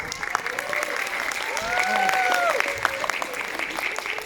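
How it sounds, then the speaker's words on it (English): Audience applause for an English teacher at a guest-speaker event, a steady wash of clapping with voices and cheering mixed in, swelling slightly in the middle. "So let's give him a round of applause first."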